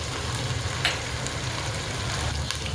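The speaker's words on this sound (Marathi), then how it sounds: "5 मिनटं तळून घेऊया तेलामध्ये अद्रक लसूण आणि कांद्याची पेस्ट" Ginger, garlic and onion paste with spices frying in hot oil for dal, a steady close sizzle with faint crackles and a soft stirring scrape partway through, no voices.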